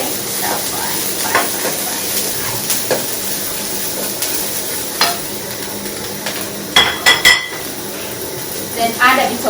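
Green and yellow peppers are added to browned onions frying in a pan, giving a loud continuous sizzle broken by clinks and scrapes of a utensil against the pan, with a few metallic clatters near the end.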